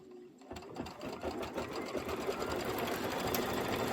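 A sewing machine stitches through a quilted Kimberbell pillow block layered with batting and background fabric, running in a steady, continuous whir that starts after a brief quiet moment and stays close and even throughout.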